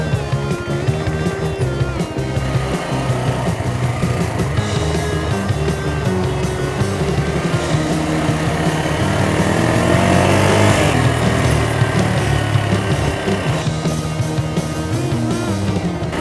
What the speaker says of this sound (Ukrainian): Зараз побачите декілька кадрів, як кататися на мотоциклі з GoPro-шечкою.